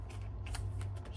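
A deck of cards being shuffled, a brief soft riffling flutter of several quick bursts over low background hum.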